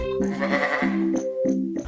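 Sheep bleat in a short series of wavering, nasal calls, three or four close bleats in quick succession, loud and near, with no voices over them.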